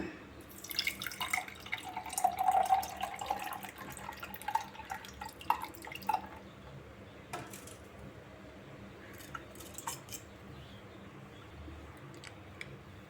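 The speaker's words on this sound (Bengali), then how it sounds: "বেলের শাঁসটা আমি জলে গুলে নিয়েছি এখন এটা ছেঁকে নেব এই ছাঁকনিটার সাহায্যে বেলের শাঁসটা ছেঁকে নেব" Wood apple (bael) pulp mixed with water being strained through a kitchen strainer, giving faint wet dripping and squishing sounds, close and quiet with no talk.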